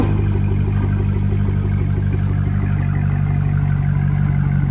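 A 2005 Chevy Corvette with a 6.0L V8 and Carven R Series dual exhaust idles close by, a loud, steady, deep burble with an even throb and no talking.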